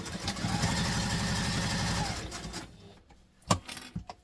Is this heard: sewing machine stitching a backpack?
yes